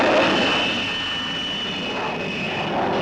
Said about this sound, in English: The Armstrong-Whitworth Sea Hawk is a single-seat carrier-borne fighter-bomber powered by a Rolls-Royce Nene jet.